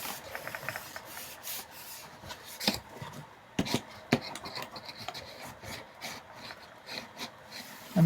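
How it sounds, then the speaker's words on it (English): Folded paper on a handmade Valentine box being burnished, with close, repeated rubbing and scraping strokes and a few sharper taps against a tabletop, and no talking. "Fold it down, burnish it."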